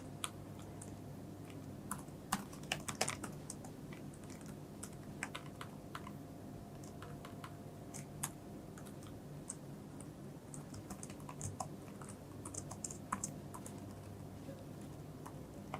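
Code being typed on a computer keyboard, with quick irregular clicks and clustered key taps running steadily at moderate level over a faint room hum.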